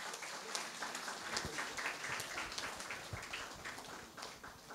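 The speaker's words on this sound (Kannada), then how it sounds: "ಒಂದು ಜೋರ್ದ ಚಪ್ಪಾಳೆ" An audience at the fifth anniversary event of the World Billava Ladies Association claps for a student honoured for scoring 620 of 625, a steady spread of applause heard from a distance and fairly faint.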